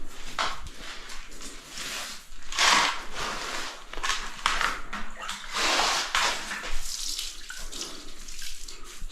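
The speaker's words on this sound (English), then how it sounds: "Slap down some water." Water is poured and splashed onto a sand and cement screed bathroom floor in uneven, loud surges of slapping, washing sound across the whole stretch.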